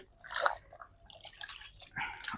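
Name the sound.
item dipped in water and wrung out, dripping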